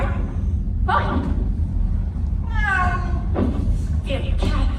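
A cat meows repeatedly, several drawn-out, rising and falling cries spaced across the stretch, loud and close over a steady low background hum with occasional thumps.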